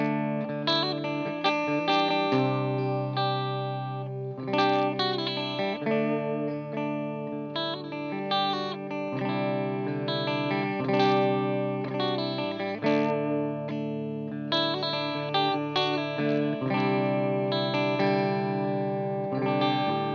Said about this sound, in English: here's what it sounds like when it's fairly clean